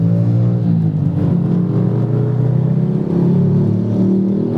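A loud, steady engine drone from inside a Mitsubishi Pajero SUV under engine braking, its pitch slowly falling and shifting as it slows, with no talking.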